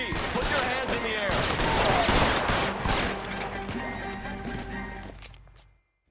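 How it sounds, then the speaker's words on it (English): Machine gun fire in the video game LA Noire: a dense, rapid burst of gunshots rattles loudly for several seconds, then thins out and fades to silence. "the shooting stopped and the machine gun sounds were still going"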